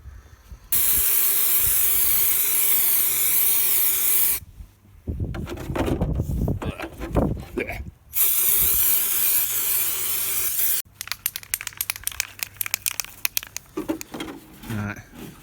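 An aerosol can sprays a second coat of rust treatment onto an RC car body, loud sustained hisses of several seconds each, broken by pauses filled with rattling and handling noise.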